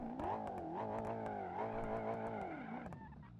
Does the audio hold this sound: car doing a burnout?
yes